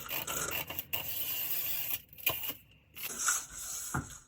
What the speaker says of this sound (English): Cut out the hem.